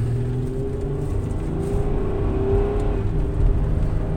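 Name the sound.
Honda van engine revving, VTEC kicking in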